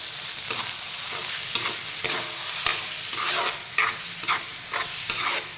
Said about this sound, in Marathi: आता मी ह्या मसाल्यामध्ये ही मसूरची डाळ ओतून घेते आणि छान एकजीव करते